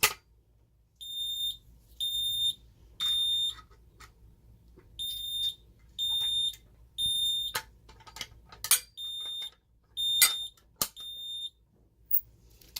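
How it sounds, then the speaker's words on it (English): An Ademco 6150 alarm keypad sounds a carbon monoxide alarm in repeated groups of three sharp electronic beeps with pauses between groups, alongside a few clicks and knocks nearby. "this one does a temporal 3 beep instead of a temporal 4 beep"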